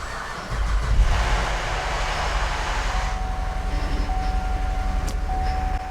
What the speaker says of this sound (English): The car is started.